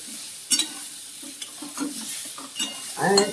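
Ingredients frying in a pan for chanar payesh are stirred with a spatula, giving a soft sizzle broken by several scraping strokes, with a louder clatter near the end.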